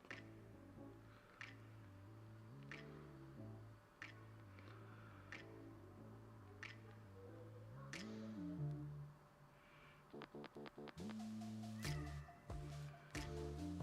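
A cat meows repeatedly in a quiet room, its tonal calls rising and falling, while faint ticks and clicks punctuate the background and a burst of rapid clatter comes later.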